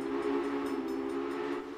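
A steady, sustained train whistle from the Railway Empire video game, one continuous tonal blast held for nearly two seconds at even loudness before easing off at the end.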